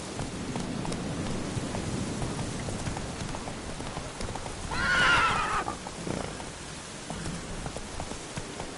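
A horse whinnies once in the middle of a video game, standing out over a steady patter of rain and soft background noise.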